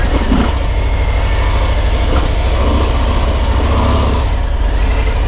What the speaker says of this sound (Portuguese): Então vamos testar essa moto, vamos testar esse motor, fazer um test drive aí na Fat Bob nova.